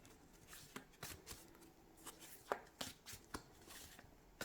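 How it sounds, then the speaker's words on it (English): Tarot cards riffle and tap in irregular bursts as they are shuffled by hand, close up and fairly quiet, with sharp card snaps standing out between softer shuffling rustles and no voices. "Maybe I'm not shuffling right because I'm scared I'm going to hit the camera or something."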